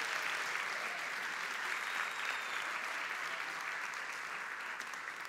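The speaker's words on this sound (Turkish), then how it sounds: "sahneye yine kıymetli alkışlarınızla İstanbul Film Festivali Direktörü Sayın Kerem Ayan Beyefendi'yi davet etmek isterim" A hall audience at the Istanbul Film Festival opening ceremony claps steadily, a continuous, even, fairly distant applause with no breaks or voices.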